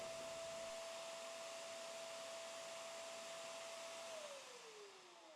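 A Karcher WD3 shop vacuum motor drones steadily at close range with a constant whine, then its pitch slides downward near the end as it starts to wind down.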